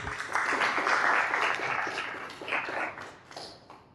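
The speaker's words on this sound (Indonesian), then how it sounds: "beri tepuk tangan untuk temannya lagi" A class of students applauds a classmate in a broadcasting and film lesson, a burst of scattered hand claps at moderate volume that thins and fades out over about four seconds.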